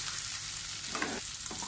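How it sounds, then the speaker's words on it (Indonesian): Tofu frying in a pan while being stirred, a steady soft sizzle with scraping stir sounds near the end, close and fairly quiet. "Masukkan kita punya tahu. Okey, kita kacau dulu."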